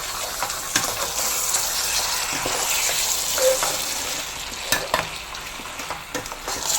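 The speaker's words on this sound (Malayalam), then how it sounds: "ഒന്നുകൂടെ ഇളക്കി കൊടുക്കാം." Mango curry (manga perattu) being stirred in a pan over a low flame, with a steady close sizzle and bubbling broken by scattered scrapes and taps of the spoon, and no voices.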